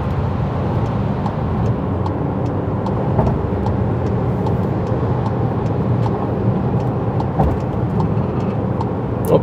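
A car travels along a road near Adler at about 96 km/h, a loud steady rumble of engine and road noise from inside the vehicle, continuous throughout with no talking.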